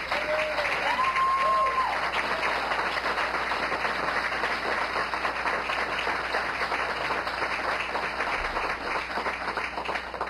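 An audience at a fire department swearing-in ceremony applauds a speaker, continuous moderate clapping from a crowd in a hall, steady throughout, with a brief voice near the start.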